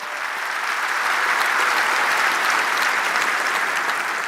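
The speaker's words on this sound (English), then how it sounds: "Round of applause for them." A large keynote audience at Microsoft Ignite applauds, a loud, even wash of clapping that holds steady from start to finish without any voices on top.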